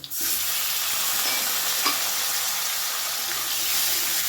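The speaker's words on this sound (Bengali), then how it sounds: "আলুটা ভাজা করে নিয়েছি এবারে এর মধ্যে আমি দিয়ে দেব কেটে রাখা টমেটো" Chopped tomato added to fried potato sizzles steadily in hot oil while being stirred for a cabbage and fish-head curry, a dense continuous crackle with a few soft scrapes and no voices.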